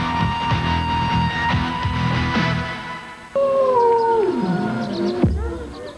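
A wild wolf howls in Yellowstone, one long, loud, gliding howl that falls in pitch. It follows a stretch of other tonal sound and stands out alone near the end.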